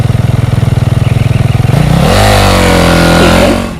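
A motorbike engine idles with a steady rapid pulse, then revs up loudly and pulls away close by, holding a strained roar before fading slightly at the end.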